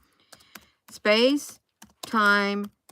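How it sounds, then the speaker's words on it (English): A few sparse, soft keystrokes on a computer keyboard, followed by two longer voiced sounds that stand out over the quiet clicking. "I'm gonna type it in."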